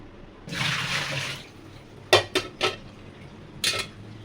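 Water drained out of a strainer while making homemade rasagulla, heard as a steady close splash for about a second, followed by several sharp metallic clinks of kitchenware.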